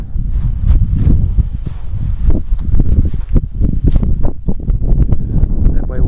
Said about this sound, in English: That way we'll be out of the wind.